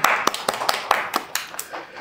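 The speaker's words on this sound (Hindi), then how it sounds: "एक बार जोरदार तालियां।" Audience clapping in a talk show studio, a loose, uneven patter of sharp claps from a small group, fairly close and lively throughout.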